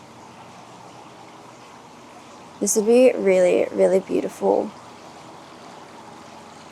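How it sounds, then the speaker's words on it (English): A stream of running water trickles steadily beside a traditional Kyoto ryokan, a soft continuous wash that carries on under a brief stretch of nearby talking. "The sound of running water is so relaxing."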